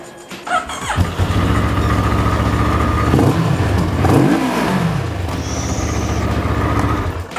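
A 2023 Moto Morini Seiemmezzo motorcycle engine idles loudly nearby, then revs up and back down in a rising and falling sweep before settling into a steady rumble.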